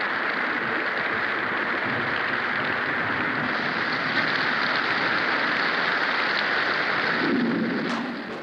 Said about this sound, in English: I say that we should try again tonight if the rain clears